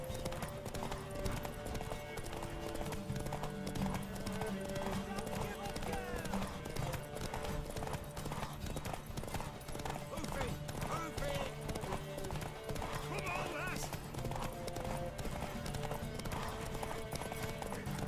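Continuous galloping hoof beats pound steadily under dense background music, with voices faintly mixed in, in the video game The Witcher 3: Wild Hunt.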